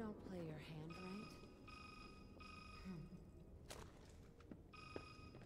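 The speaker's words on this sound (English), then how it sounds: "That's a Metal Gear phone." Metal Gear-style phone ringtone in the Resident Evil 6 video game, a repeating electronic ring in bursts with pauses, heard under game voices and background sound.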